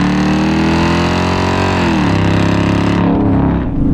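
A Dodge Charger R/T with full bolt-on exhaust and intake revs hard, its loud deep engine note climbing steadily in pitch through the RPMs and then easing off near the end, close and alone without talk.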